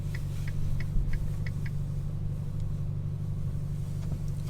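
Ferrari Portofino M being manoeuvred into a parking space outside the Ferrari factory, a steady low engine rumble at close range with light ticking clicks over it and no talk.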